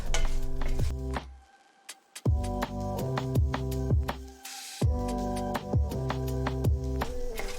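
Pumpkin seeds toasting in a pan, with rhythmic scraping and clinking as they are stirred, light sizzling underneath and brief pauses between stirring passes, close-up.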